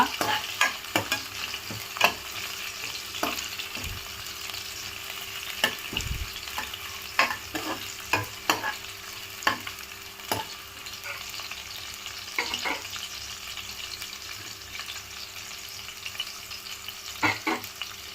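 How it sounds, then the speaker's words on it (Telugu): Whole biryani spices, including star anise, cinnamon, cloves and marathi moggu, frying in oil with a steady sizzle and frequent sharp scraping stirs of a spoon against the pot, close and continuous. "హోల్ బిర్యానీ దినుసులు వేస్తున్నానండి."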